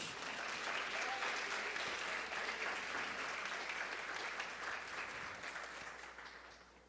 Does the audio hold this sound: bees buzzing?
no